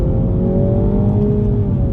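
A 2021 Mini Cooper JCW GP3 in manual mode accelerating hard, its loud engine note climbing steadily in pitch through a single gear, with a whirring edge and no talking.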